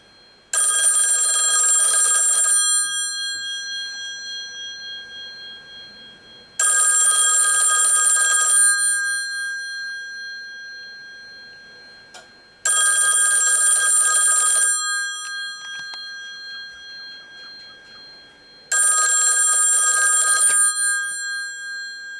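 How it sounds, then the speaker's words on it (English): A loud 1961 Western Electric 500 telephone bell rings in four long bursts of about two seconds each, separated by regular four-second silences, in the steady American cadence. "There's that nice American ringing cadence."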